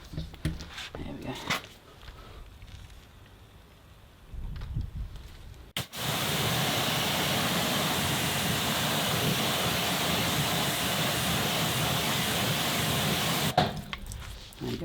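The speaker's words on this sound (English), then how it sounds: "now it's time to give it a good rinse down" Water sprays steadily onto car wheels during a rinse, a loud continuous hiss lasting several seconds. It is preceded by quieter handling noises and a brief voice, then cuts off near the end.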